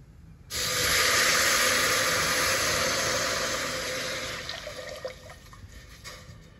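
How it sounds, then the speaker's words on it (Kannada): Water poured from a small vessel into a pot for sweet Pongal gushes in a steady, loud rush for several seconds, then tapers off into lighter trickling and drips. "ಇದು ಒಂದು ಚೊಂಬಲ್ಲಿ ನೀರು ಹಾಕ್ಕೊಳ್ಳಿ"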